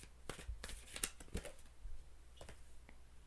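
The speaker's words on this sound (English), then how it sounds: "3 more shuffles." Tarot cards being shuffled by hand, a series of quick riffling bursts with soft papery snaps and short pauses between them, close and clear with no talking.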